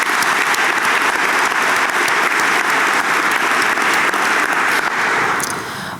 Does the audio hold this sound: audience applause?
yes